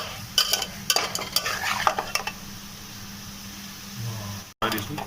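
Tomatoes stirred in a pan while cooking a village-style dry-fried pork, with clattering scrapes and utensil knocks against the pan over a low sizzle, then quieter frying before a brief cut.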